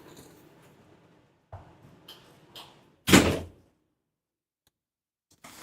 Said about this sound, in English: Let me go close the door